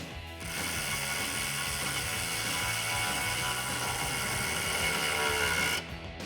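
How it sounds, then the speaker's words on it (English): Ratchet clicking steadily as 13mm bolts are tightened into the cross-member exhaust hangers of a 2018-2019 Mustang GT, a close, continuous rapid pawl chatter running for several seconds before stopping. "let's go ahead and install our 13mm bolts back into our cross member hangers."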